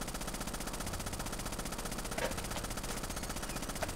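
A glitched machine gun in Rainbow Six: Vegas 2 firing continuously on its own, a fast, even, unbroken rattle held at a steady moderate level throughout.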